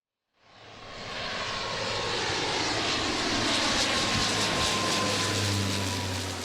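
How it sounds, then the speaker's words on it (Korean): An airplane flies low over a village next to Gimhae Airport, its engine roar rising quickly from silence to a loud, sustained rumbling whine that holds steady with no talking. "김해공항 인근 월프 마을에는 하루 종일 비행기 소음이 그치지 않는다."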